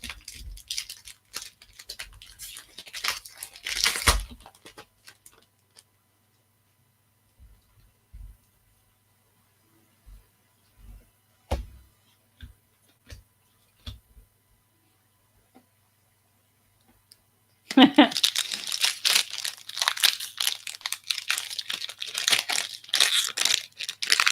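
Trading card packs being opened and a card crinkled and crushed, with scattered soft ticks and crackles, then a longer dense burst of close crinkling and tearing of wrappers and cards.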